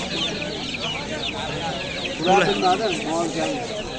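At a poultry market, hens and 16-day-old black chicks cluck and cheep in a dense, continuous chorus, with people talking over the busy crowd noise.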